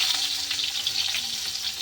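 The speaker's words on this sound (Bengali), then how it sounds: "আমরা ঘরে বানাচ্ছি, তার জন্য একটু পেঁয়াজটা ভাজবো নরম করে।" Onions fry over high heat in a kadai while noodles are being made at home, a short, dense, continuous sizzle with bright crackling and no voices.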